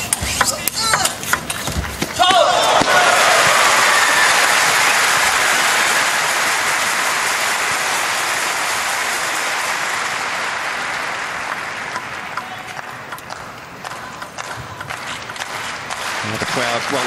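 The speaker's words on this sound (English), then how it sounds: "The crowd once again just engaging themselves" Crowd at a 2017 World Table Tennis Championships mixed doubles semifinal breaks into loud, sustained cheering and applause that swells early and slowly fades over several seconds, with a commentator talking over it.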